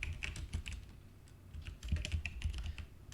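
Typing on a computer keyboard, close and fairly quiet, with irregular bursts of key clicks and short pauses between them, no voices.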